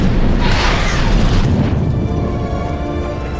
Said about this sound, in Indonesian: Frank terlambat karena mobil ambulans sudah meledak